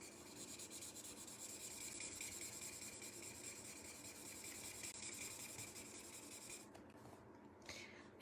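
Chisel-nib marker colouring on paper, a steady continuous rubbing scratch of the nib stroking back and forth, close and fairly quiet, alone without talk.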